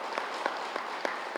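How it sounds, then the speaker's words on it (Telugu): Applause from a seated lecture audience, a short burst of claps with a few distinct louder hits over a soft, steady patter, moderately distant. "గట్టిగా చప్పట్లు కొడదాం ఆయన"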